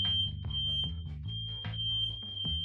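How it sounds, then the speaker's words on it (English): A fire alarm sounds continuously as a single steady high-pitched tone, while low muffled thumps and hums underneath rise and fall in a regular pulse. "I gotta go. That's a fire alarm."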